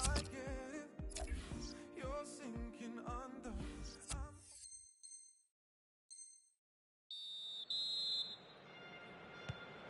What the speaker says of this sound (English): So it's 1-0 here as the half-time whistle goes.